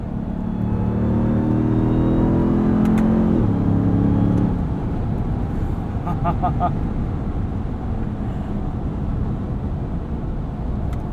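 A 2021 Ram 1500 TRX pickup truck accelerates on a city street. The engine revs climb and then drop at a gear change before settling into a steady drone, and a voice talks over it.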